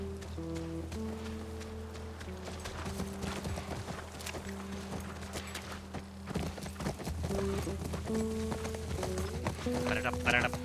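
A horse gallops in The Last of Us with rhythmic hoof clip-clops and rustling under background music and someone talking, growing louder toward the end.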